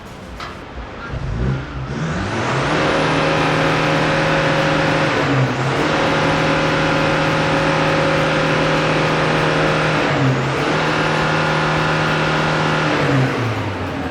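A car engine, tuned and remapped and treated for black smoke, is revved hard through an engine detox, with sustained loud blipping and three sharp rises and dips in pitch across the run.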